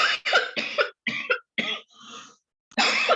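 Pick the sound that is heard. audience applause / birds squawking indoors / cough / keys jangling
cough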